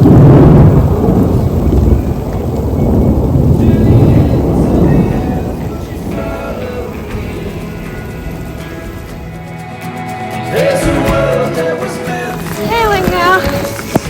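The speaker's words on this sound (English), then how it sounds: "Stuck in the rain on the side of a granite mountain in the middle of a thunderstorm." Thunderstorm with steady rain and rumbling thunder on the exposed side of a granite mountain, loud and continuous with a roaring wash and low rolls, later thinning slightly with a brief whistling tone near the end.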